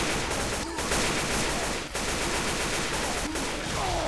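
Rapid gunfire in a video game crackles continuously at close range, with bursts of shots and automatic fire layered over a busy, steady din throughout.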